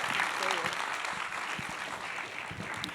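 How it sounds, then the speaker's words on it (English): Audience applause for writer panelists at a WGF and Netflix panel event, fairly soft and scattered clapping with a few voices and a brief whoop mixed in. "let's give them a round of applause, everybody"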